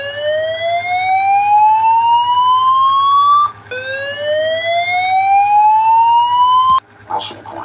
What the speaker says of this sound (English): let's pull the fire alarm